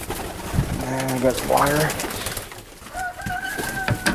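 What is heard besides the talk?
Italian Owl pigeons cooing in a loft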